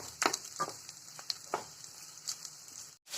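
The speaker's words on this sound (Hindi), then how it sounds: "प्याज हम सॉफ्ट होने तक सॉटे करेंगे" Cubed medium onion sautéing in oil, giving a faint, steady sizzle with a few sharp crackles and stirring clicks, and no one speaking.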